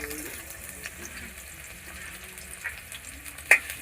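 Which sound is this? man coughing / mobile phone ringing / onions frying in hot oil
onions frying in hot oil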